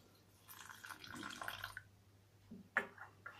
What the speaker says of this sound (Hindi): अब हम इसमें थोड़ा थोड़ा पानी डाल के इसे मिक्स करेंगे।